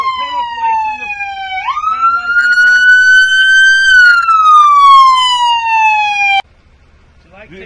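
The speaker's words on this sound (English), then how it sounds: "Can we turn on the siren?" A loud police car siren wails nearby, its pitch sliding up, holding, then gradually falling before it cuts off suddenly.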